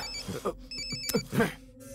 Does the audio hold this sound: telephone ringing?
yes